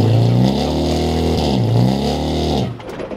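A rotary-engined car at a Rotary Reunion track event revs hard on takeoff, a loud, close buzzing engine note that climbs, dips and rises again before cutting off sharply.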